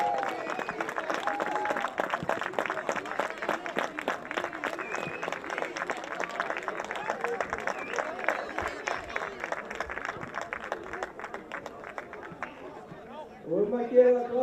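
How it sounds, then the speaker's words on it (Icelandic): A crowd at a youth football event claps for the boys' team, a moderate, fairly distant patter of applause that thins toward the end before a brief louder sound. "Gefum við drengjum gott klapp."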